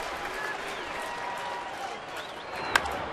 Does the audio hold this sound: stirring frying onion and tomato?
no